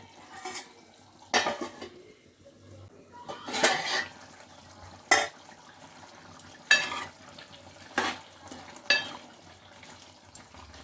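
Chicken fries in oil in a pot for a home-cooked chicken curry, with chili powder going in. A spoon scrapes and clanks against the pot in irregular bursts over a faint, low background sizzle.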